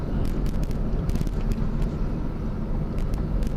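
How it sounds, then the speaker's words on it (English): A stock Mazda RX-7 FD3S engine revving, with turbos audibly spooling up, heard with some wind noise across the microphone. "you can hear those turbos come in"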